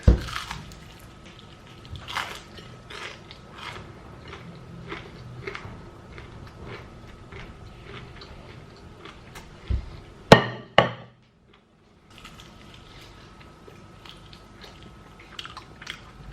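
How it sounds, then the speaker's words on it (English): Crunchy Popeyes fried chicken being bitten and chewed up close: repeated crisp crackling chews, then one loud sharp crunch of a big bite followed by a brief pause and quieter chewing. "I know you guys love a crunch, so I had to put a big crunch in."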